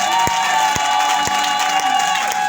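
Church congregation at a Sunday service applauding and cheering together, a dense continuous crowd roar with whoops and shouts, punctuated by a few sharp percussive hits.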